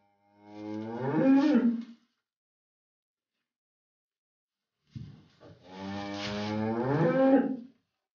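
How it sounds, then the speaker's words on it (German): Cows in a barn give two long, loud moos, the second after a pause of a few seconds, each alone with no talk around it. "hat gehört, wie die Kühe muhen"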